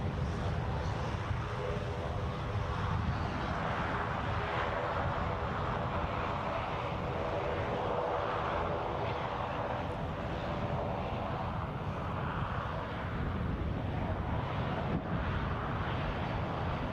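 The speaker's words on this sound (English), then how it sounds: "Looks like the ATR's going short as well." ATR turboprop airliner landing at Edinburgh Airport, a steady distant droning engine hum with faint propeller tones under wind buffeting, continuous throughout with no clear talk.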